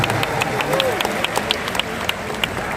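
A crowd applauds at a large political volunteer rally, with scattered sharp claps over a dense outdoor hubbub of voices and cheering.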